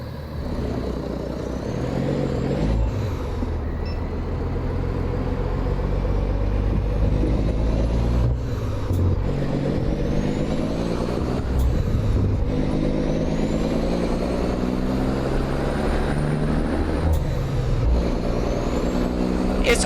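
Caterpillar 3406E diesel engine rated at 550 hp, driven in American Truck Simulator, gives a steady low rumbling drone with harmonic bands that climb and fall as it revs through the gears, plus brief air-brake hisses near the end.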